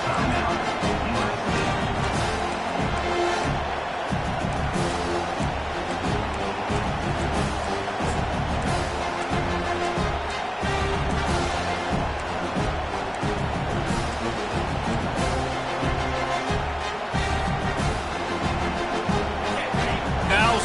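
A packed American football stadium crowd roars loudly and continuously during a second-and-goal play, a dense wall of noise that holds at high volume throughout.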